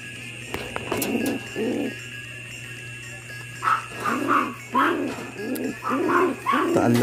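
Pigeons coo at a breeder's loft in a steady run of soft, rounded, rhythmic calls that come close together, with a faint hum in the background and no talk.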